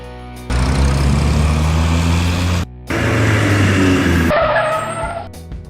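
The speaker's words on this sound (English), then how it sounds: "Food truck." A food truck's engine runs loud and close with a steady droning hum, breaking off briefly, resuming, then shifting and tapering off.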